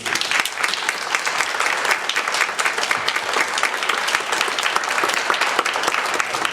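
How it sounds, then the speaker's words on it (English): Audience applause at a Veterans Day ceremony in Sauk Village, a steady, dense burst of many hands clapping that holds evenly for several seconds without fading. "So I would like you to give a round of applause for those young people."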